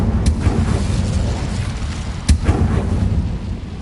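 Incendio fire spell cast in the Hogwarts Legacy video game: two sharp, loud whooshing blasts about two seconds apart over a dense, continuous low rumble, with no talking.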